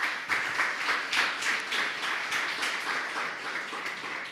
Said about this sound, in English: So please, everybody, a big round of applause to the startups that just pitched.